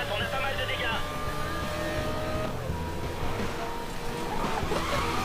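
Racing car engine in Need for Speed Most Wanted roaring steadily through a drift, with a skidding whine on top, loud and continuous while someone talks over it.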